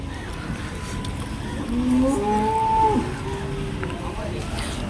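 A cow at a dairy farm selling HF cattle gives one drawn-out, rising and falling moo in the middle, standing out over a steady background hum, moderately near.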